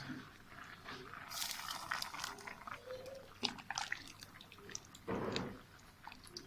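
Warm milk poured over cooked rice for rice pudding, a soft liquid splashing and trickling with drips and light clinks, fairly close, with a brief louder pour near the end.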